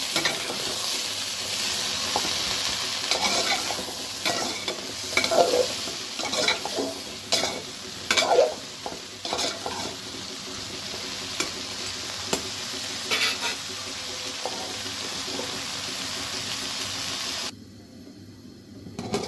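Ridge gourd, long beans and shrimp frying in a pan while being stirred: a continuous sizzle with repeated scraping and clinking of a spatula against the pan, then an abrupt cut near the end.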